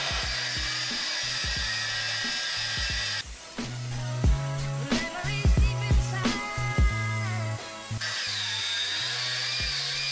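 An angle grinder fitted with a guard cuts at an angle into a thick motorcycle U-lock with a short shackle, a steady high whine broken by shifting pitch and grinding bursts as the disc bites into hardened steel.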